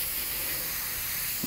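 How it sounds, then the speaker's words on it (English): A steady, airy hiss of an airbrush spraying paint onto a latex mask runs evenly for the whole stretch, close and moderately quiet, with no talking. "if you keep the airbrush moving, you're not gonna get those hang-ups"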